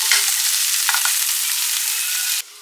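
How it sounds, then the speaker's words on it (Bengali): Capsicum and bell peppers being tossed in a hot pan, a steady close sizzle with a few soft stirring scrapes, ending abruptly. "স্বাদ মতন নুন অ্যাড করে হালকা করে টস করবো, কারণ এটা তো খুব বেশি ফ্রাই করতে হবে না।"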